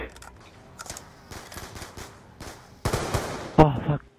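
Automatic gunfire bursts in Call of Duty Black Ops 2 Zombies on the Buried map, rapid crackling shots with a loud burst near the end, mixed with game effects.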